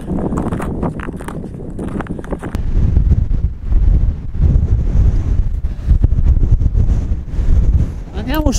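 Strong wind buffets the microphone outdoors on a mountain trail in the Lagorai range near Scurelle, Trentino, a loud continuous rumble that swells and dips, with brief talk mixed in.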